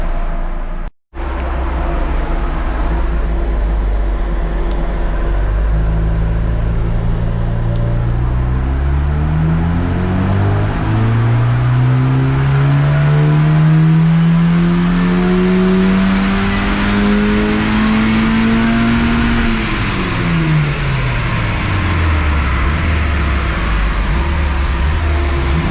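A Zetec-swapped mk3 Ford Fiesta runs on dyno rollers, its engine note loud and steady, then climbing smoothly in pitch as revs build before dropping back, with constant roller and mechanical roar.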